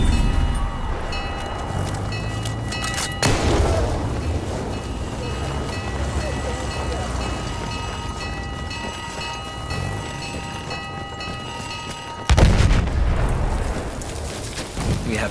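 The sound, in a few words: enemy artillery barrage in video game Rush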